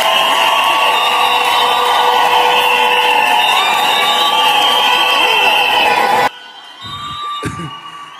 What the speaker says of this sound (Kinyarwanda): Nimumwongera amashyi menshi.